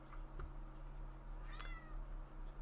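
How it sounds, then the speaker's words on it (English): A cat meows faintly in the background of a quiet room with a low electrical hum, one short meow near the middle, with a fainter earlier chirp. "And that's my cat meowing."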